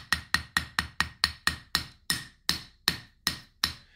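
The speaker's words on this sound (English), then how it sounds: "I think we should hammer right here." Sharp hammer strikes on rock while digging for gems, about a dozen evenly spaced metallic blows ringing close and loud, each decaying quickly before the next.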